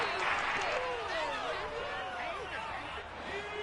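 Crowd noise in a football video game swelling with cheers after a big play ahead of a key third down, a steady dense roar with whistles and yells running throughout under a commentator's voice.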